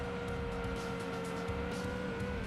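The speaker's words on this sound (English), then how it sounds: "this is our wonderful rotary engine. Twin rotor." Twin-rotor rotary-engine race car in Gran Turismo 2, a steady high-pitched engine whine held loud and constant throughout, with faint tire squeal, no pauses.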